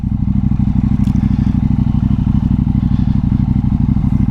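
A KTM 790 Duke motorcycle with a booster plug pulls away in first gear at around 1400 RPM without throttle, a steady low, even thumping engine pulse close by and alone.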